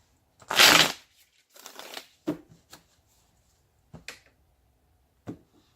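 Tarot cards being cut and handled by hand: a loud riffling burst, then several short, separated slaps and taps of the deck settling, quiet and close with no talking.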